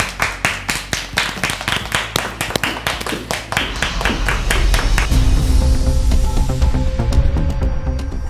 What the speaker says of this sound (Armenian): ուղեկցում ենք ծափահարություններով